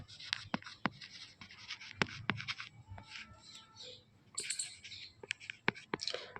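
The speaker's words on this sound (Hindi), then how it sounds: "चलिए हम फिर से लिखते हैं" A pen writing on paper, a quiet, close, uneven run of scratchy strokes and small taps, with faint speech in the background.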